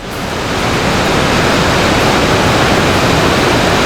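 Gullfoss, a large multi-tiered waterfall in Iceland, roars in a loud, dense, unbroken rush of falling water and spray, steady throughout with no other sounds.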